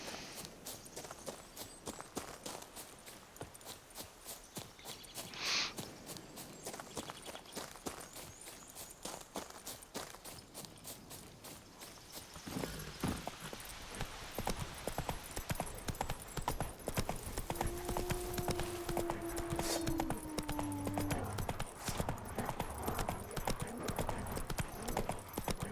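Roach the horse in The Witcher 3 trots along with rapid, even hoof clip-clops close by. The pace quickens to a faster run halfway through, with a brief whinny and some game ambience underneath.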